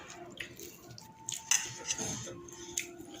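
A spoon scrapes and clinks against a bowl while stirring puffed rice (muri), a close series of irregular metallic taps and rustling scrapes.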